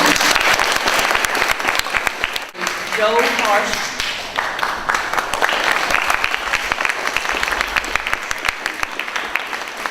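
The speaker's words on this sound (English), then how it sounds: "give him a round of applause, ladies and gentlemen" An audience at a Vietnam veterans gathering applauds a veteran being introduced, sustained clapping filling the room with a brief pause and a spoken name partway through.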